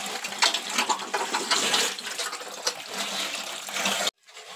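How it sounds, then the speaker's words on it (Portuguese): Water is thrown across the floor of a pigsty to wash it out, a loud rushing splash that surges and then cuts off abruptly near the end. "eu joguei uma água aí no chiqueiro"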